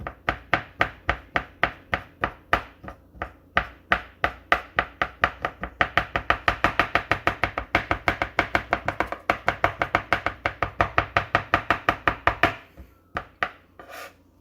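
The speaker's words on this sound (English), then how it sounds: "now that I have nicely chopped my chocolate" A knife chops through a thick chocolate bar on a cutting board, with sharp, rapid rhythmic strikes that speed up into a dense run before stopping, close and clear.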